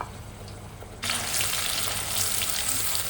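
Spices hit hot oil and erupt into a loud, bright sizzle after a second of quieter background, then keep crackling steadily close by with no voices.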